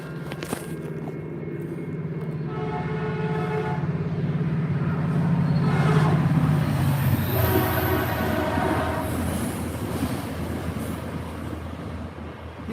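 A train rolls past close by, a loud sustained rumble and rattle of wagons with a long horn tone sounding over the first half, no speech.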